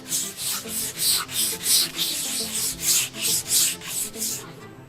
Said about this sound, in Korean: 이제 표면을 다듬고 깎아 검집의 형태를 잡아줍니다